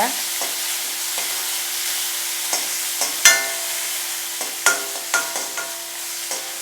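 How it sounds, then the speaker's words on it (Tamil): Cut lemon pieces sautéing with curry leaves in a pan over low heat, a steady close sizzle with scattered spatula taps and scrapes. "இந்த நம்ம கட் பண்ணி வச்சுருக்கிற எலுமிச்சம்பழத்தை இதில் போட்டு நல்லா வதக்கணும்"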